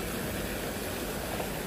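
Water from Ma Tai Stream pours over a rocky waterfall, producing a continuous, even hiss and rush at moderate volume with no other sounds over it.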